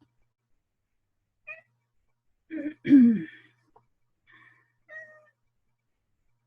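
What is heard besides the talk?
cat meowing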